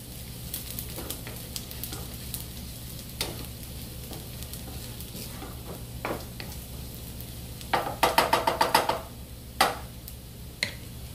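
Stuffing ingredients sizzle steadily in a frying pan while a utensil scrapes and taps through them, with one quick run of clinks near the end and no talk.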